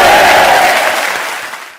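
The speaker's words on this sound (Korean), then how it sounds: "박수로 영광 올려드립니다." A church congregation claps together in a dense, loud burst of applause that fades over about two seconds.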